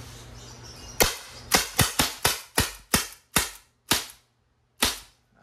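An Umarex SA 10 airgun fires about ten sharp, crisp shots in an irregular rapid sequence, each a loud snap with a short decay, then a few slower final shots.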